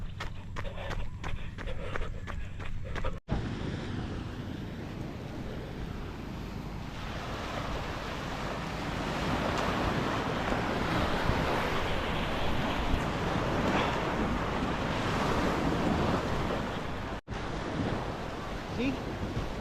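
Ocean waves wash onto a beach in Ternate in a steady roar, swelling and surging over several seconds, with wind buffeting the microphone and occasional footsteps.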